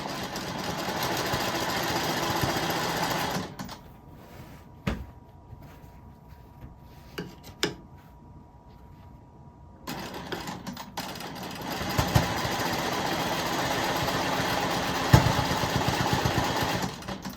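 A quilting machine stitches echo lines along a quilt border, its fast steady motor hum running in long bursts with a quiet pause midway.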